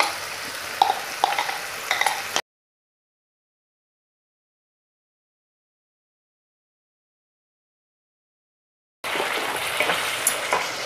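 Onion, garam masala and tomato paste fry and sizzle in hot oil while being stirred, a steady close crackle in two stretches broken by a long silent gap, with no voices.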